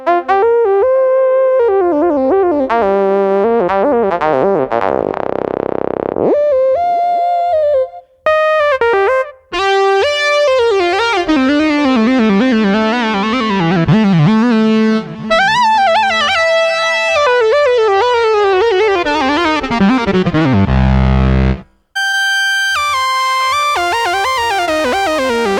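Bright lead lines from a Roland FA-08 synthesizer glide through melodic phrases with smooth pitch bends, loud and upfront, with short gaps and a deep bass swell.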